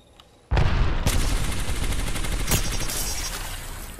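Gunfire in Apex Legends erupts suddenly after a brief hush, a loud dense barrage of shots and impacts that keeps roaring and slowly eases off.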